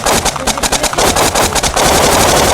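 Rapid automatic gunfire in a shooter video game, loud and close, a dense stream of rattling shots broken by brief gaps and then continuing steadily to the end.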